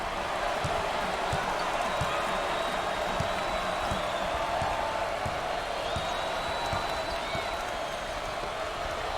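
Dense crowd roar fills a college basketball arena during a Big Ten game between Northwestern and Wisconsin, with student sections and bands in the stands, steady and loud throughout, broken by repeated sharp ball bounces on the court.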